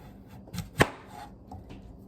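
A knife chopping boiled potatoes on a cutting board for mashing, a few soft taps and one sharp, clear chop, with quiet kitchen background between strokes.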